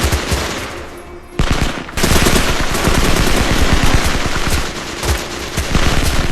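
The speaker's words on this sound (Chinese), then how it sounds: "舒特带人上前进行补枪，继续对着还有气息的同胞狂暴开火。" Loud, rapid gunfire from a war film massacre scene as soldiers finish off survivors: sustained automatic bursts with a brief pause near the start, then continuous close firing to the end, with no voices.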